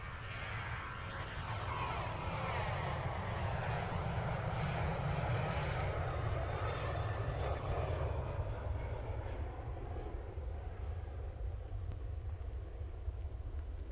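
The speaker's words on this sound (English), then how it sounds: "all these aircraft decided they wanted to depart" Airliners departing Melbourne Airport: a loud, continuous jet engine roar fills the whole stretch, swelling in the middle and easing slightly toward the end, with a broad rumbling whine and no voices.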